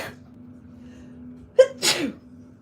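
A single sharp sneeze bursts out clearly over a quiet room hum, a short intake followed by a loud explosive release, with no talking around it.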